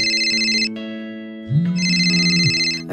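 A phone ringtone plays a bright electronic melody, a few short sustained tones that pause briefly and then resume, close and clear with no voices.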